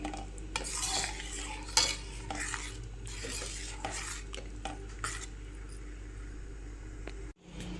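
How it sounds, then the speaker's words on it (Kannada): Cooked dal being mixed into spinach in a pot, with repeated soft spoon scrapes and clinks against the metal over a low continuous hum, close and fairly quiet. "ಬೇಳೆನ ಇದಕ್ಕೆ ಹಾಕ್ಬಿಟ್ಟು ಈ ಥರ ಮಿಕ್ಸ್ ಮಾಡ್ಕೋಬೇಕು."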